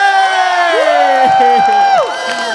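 A crowd cheers and shouts loudly, with many overlapping voices rising and falling in pitch, close and sustained throughout.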